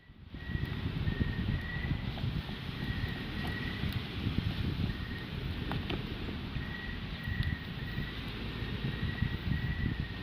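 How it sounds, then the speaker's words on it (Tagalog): Strong wind buffets the microphone on a beach at night with constant low rumbling and gusting, loud and unbroken for about ten seconds, with no talking. "kusog man ang hangin"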